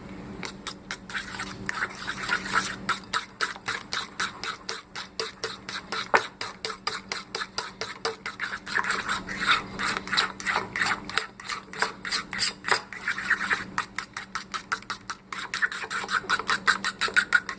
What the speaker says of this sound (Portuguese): só com o auxílio de um garfo você consegue incorporar bem os ingredientes